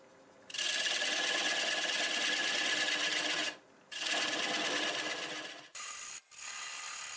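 A wood lathe running at 550 RPM while a piece is sanded, giving a loud, steady broadband whir and rasp in two long stretches that stop briefly, then a short final burst, with no talk.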